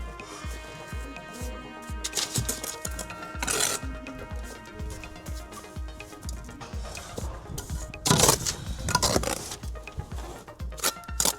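A bricklaying tool rubs and rasps along mortar joints on a brick wall, repeating as a quick rhythmic series of close, scratchy strokes with a few louder scraping bursts and no talk.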